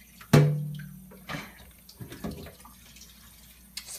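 Kitchen sink water while a child helps wash dishes: a sharp splash and clatter, then short bursts of running and dripping water with small knocks, intermittent and close by, with quiet gaps between.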